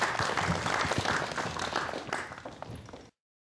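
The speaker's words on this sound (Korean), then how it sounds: "큰 박수로 맞이해 주십시오." Audience at a KBS Changwon New Year economic-outlook forum applauds steadily as a speaker is welcomed, dense sustained clapping that thins slightly before cutting off.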